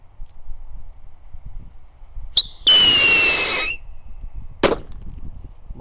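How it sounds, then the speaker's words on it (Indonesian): A pirotor rocket firework lit in a hole in the ground gives a short squeal, then a loud rushing hiss with a shrill whistle for about a second, followed later by a single sharp crack. "Selanjutnya di sini ada roket pirotor. Kita nyalakan, bosku, di lubang tanah."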